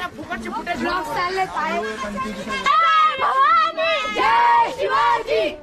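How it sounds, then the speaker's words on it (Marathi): A crowd of excited children on a school trip at Shivneri Fort chatter and shout all at once, many overlapping voices close by, loud and continuous with rising cheers. "ही मुलं फार आवाज येत आहे मित्रांनो, फार आवाज आहे"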